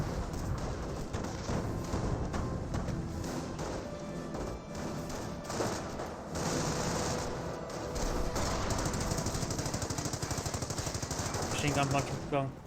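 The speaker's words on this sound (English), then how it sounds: "Machine gun bunker does get a bit of fire there." A machine gun bunker fires in the World War II strategy game Company of Heroes, with dense, continuous rattling bursts and scattered crashes of battle, loud throughout the whole stretch and overlapping a constant busy mix.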